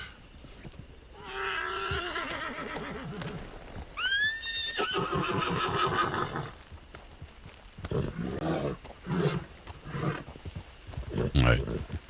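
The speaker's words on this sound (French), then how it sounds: "C'est des chevaux de shérif qu'on entraîne en fait." Sheriff's horses in training neigh and whinny loudly, one rising whinny standing out, with hoof clip-clop and a busy crowd around them; people talk in the background.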